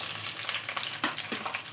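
Sliced lady finger (okra) frying in two tablespoons of coconut oil, a soft steady sizzle with faint crackles and light stirring close by.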